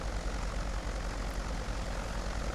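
A propeller airplane on an early morning landing at Clemente Island drones steadily from close by, its engine and prop a continuous, even hum with no talking.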